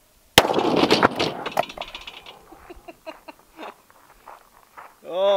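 One sharp, loud gunshot from a .500 Magnum Smith & Wesson revolver with no barrel, followed by rattling and scattered clatter, with voices reacting afterward.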